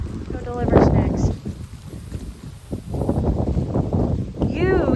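Wind gusts outdoors as steady, rushing buffeting across the microphone, rising and falling throughout while a voice talks over it.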